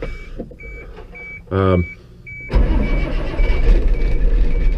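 A cold bucket truck's diesel engine cranks in a short burst, then catches and settles into a loud, steady rumble, with a repeating electronic beep sounding throughout.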